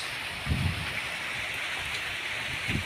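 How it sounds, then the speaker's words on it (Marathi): Steady rain hisses down without a break, with a couple of soft low thumps; no voices. "हा पाऊस"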